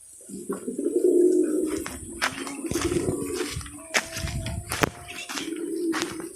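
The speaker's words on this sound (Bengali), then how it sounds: "এখানে বিভিন্ন প্রজাতির কবুতর" Pigeons of various breeds cooing in repeated low, rounded phrases, close by on a farm, with a few sharp clicks and knocks in between.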